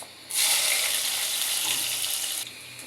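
Onions go into hot oil with bay leaf, cumin, cardamom and cinnamon: a sudden burst of loud, hissing sizzle starts up, holds steadily for about two seconds, then drops back to a quieter background.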